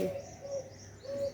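A dove coos softly, with low hollow notes repeating in a slow rhythm against a quiet background.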